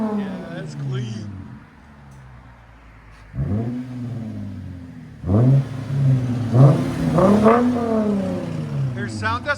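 A 2014 Lexus IS 250 with a 2.5L V6, LCGP resonators and a muffler delete revs hard several times up close, the exhaust rising and falling in sharp bursts. People talk over it.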